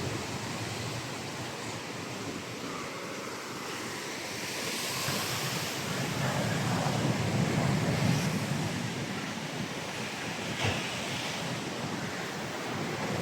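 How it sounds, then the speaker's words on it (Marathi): Rough sea surf and gusting wind batter the shore at the Bharadkhol fishing village during a coastal storm, a continuous roaring wash that swells louder midway, with heavy wind rumble on the microphone and no talking. "समुद्र खवळलेला आहे पूर्ण भरडकलचा"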